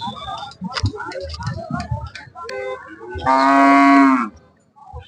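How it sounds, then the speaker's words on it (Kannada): A cow lets out one loud, drawn-out moo near the end, after a stretch of talking and background noise at a cattle and buffalo market in Sindhanur, Karnataka. "ಇಲ್ಲೊಂದು ಹಸು ಇದೆ ನೋಡಿ"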